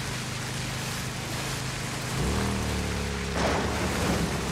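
Heavy rain from a thunderstorm in the video game Days Gone, a steady broadband wash with a low engine-like hum rising partway through and a louder surge near the end.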